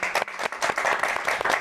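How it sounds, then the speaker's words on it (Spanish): Applause from a studio audience on a television program, with bursty clapping in short waves. "Un aplauso,"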